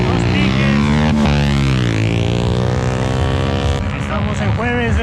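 A 650 cc high-displacement motorcycle launches hard in a street drag race at an airport, its loud, close exhaust sweeping sharply up through the revs with a quick gear shift before settling into a sustained roar.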